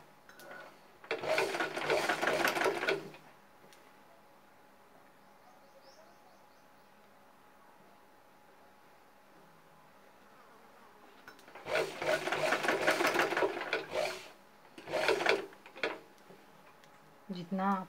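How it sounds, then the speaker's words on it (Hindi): A sewing machine stitches fabric and buckram in two bursts, a short run at the start and a longer one near the end with a brief pause, close and moderately loud, with quiet gaps between. "फिर इसको सिलाई लगाना है। तो सिलते हैं इसको।"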